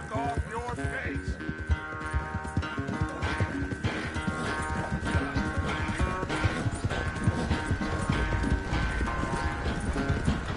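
Horse hooves clip-clop at a steady gait in the Red Dead Redemption 2 video game, loud and continuous over a music and ambience bed, with occasional voices in the background.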